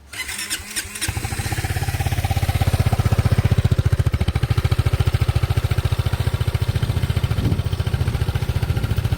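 Kymco DTX350 adventure scooter with its stock exhaust, engine running at a steady idle: a loud, close, even pulsing thrum that holds for several seconds after a brief shuffle at the start.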